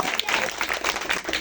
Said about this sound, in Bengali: তার জন্য জোরে একটা হাততালি হয়ে যাক